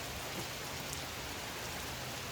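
Rain falls steadily outdoors as a dense, even hiss of drops on surfaces, close and constant throughout, with no voices.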